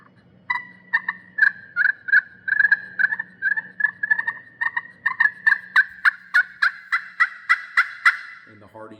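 Friction turkey call worked with a striker, giving a run of raspy yelps that begins loose and grows into faster, sharper clucks and cutts; close and clear, with a faint low hum underneath and no speech.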